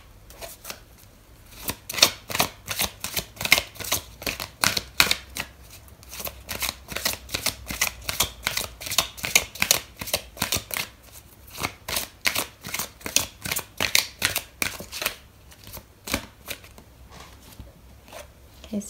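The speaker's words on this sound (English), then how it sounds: "I'm going to pull out another card for you" Tarot cards being shuffled, a long run of quick crisp riffling flicks repeating in bursts, close and fairly loud with no talking.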